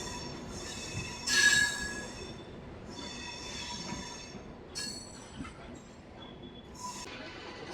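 A DEMU passenger train pulls away from Sitafal Mandi station, with steady rumbling rail noise, a loud wheel squeal early on, and recurring high metallic screeches as the cars roll along the track.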